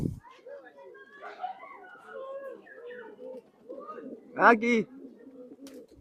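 Pigeons, an old bloodline breed kept at a loft, coo in soft repeated rolling phrases close by, with a louder flutter or call burst near the end while someone talks over them.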